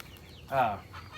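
A single short cluck from a chicken, fairly quiet, over low background noise.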